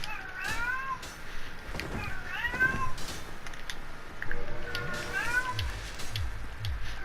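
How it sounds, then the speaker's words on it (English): Several drawn-out meows from a pet cat in the room, coming in clusters of two or three, moderately loud over a constant background hiss, with a few low thumps near the end. "I apologize if you can hear my cat in the background."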